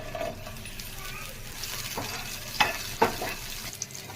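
Ridge gourd peel frying in oil in a pan, a moderate continuous sizzle punctuated by a few sharp metallic clinks of a spoon stirring against the pan.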